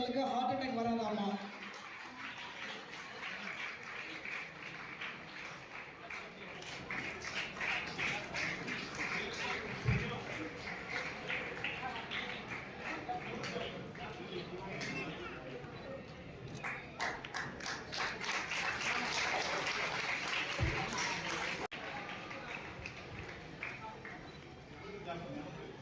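Audience applause at a charity event honouring a helping trust, sustained clapping filling most of the clip with dense, steady texture, a few louder thuds scattered through.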